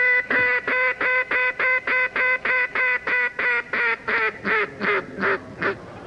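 A duck call blown on a late-night talk show, giving about fifteen loud, evenly spaced nasal quacks in a steady run, with a person imitating duck sounds through the call and no talking over it.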